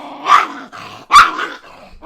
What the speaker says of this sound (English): It's his dog, or his girlfriend's dog.